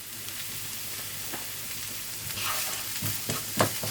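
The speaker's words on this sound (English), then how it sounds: "Insert it into the pan and stir it up." Whole onion and garlic frying in a pan for chili con carne: a steady, soft sizzle throughout, with scraping stir strokes growing louder and more frequent in the second half, and no talking.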